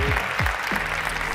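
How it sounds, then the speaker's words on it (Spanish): Audience clapping at a tech awards gala after a prize announcement, a steady wash of applause with a few low sweeping tones from the venue sound underneath, no voices. "¡Un aplauso!"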